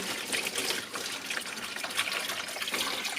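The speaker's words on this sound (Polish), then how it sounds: "Układ jest zakręcony, więc nam spłynie tylko i wyłącznie woda" Water drains from shut-off heating system pipes into a container, a quiet, continuous gushing trickle with small splashy fluctuations and no talk.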